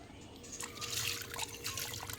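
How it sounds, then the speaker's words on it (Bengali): Katla fish being washed under running water at a kitchen sink: a steady trickle and splash of tap water with small drips and wet handling sounds, continuous and fairly close. "মাছ ধুয়ে নিচ্ছে তোমাদের দিদিভাই।"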